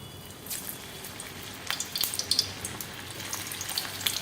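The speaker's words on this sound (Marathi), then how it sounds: "तेल चांगलं तापलं की मग ह्या 1-1 शेंगा घालायच्या आहेत" Drumstick pods slipped one by one into well-heated oil: a quiet hiss that breaks into a cluster of sharp, close crackles and spits partway through, then settles into soft sputtering.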